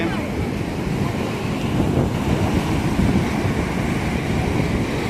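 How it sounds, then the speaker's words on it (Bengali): High-tide sea waves surge and break on Puri beach, giving a continuous close rushing roar with wind buffeting the microphone. "আবার ঢেউ আসছে"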